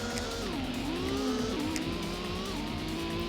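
Tires squealing as a car slides into oversteer in Gran Turismo on PS1, a long sustained skid whose pitch bends up and down over steady engine drone, loud and continuous.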